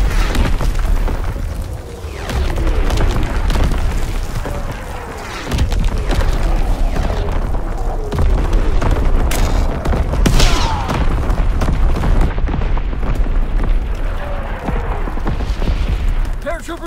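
An artillery barrage pounds the winter Carentan map in Call of Duty: WWII, with heavy booms and rumbling explosions rolling one after another amid scattered gunfire. Radio-style voices speak over the continuous, loud bombardment.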